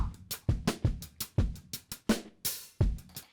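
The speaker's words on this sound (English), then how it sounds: "We're going to use a drum loop as this example." A punchy drum loop plays on its own, with steady kick and snare hits and hi-hat wash in a driving, repeating rhythm.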